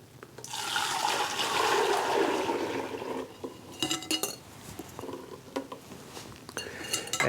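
Eggnog mixture poured from a vessel back into a pot, a steady close liquid pour lasting a few seconds, followed by scattered clinks and scrapes of metal cookware.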